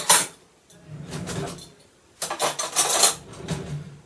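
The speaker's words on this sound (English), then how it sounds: "We'll put my spoons away." Metal spoons clatter and clink as they are put away in a kitchen, several bursts of jangling contact separated by short pauses, close and fairly loud.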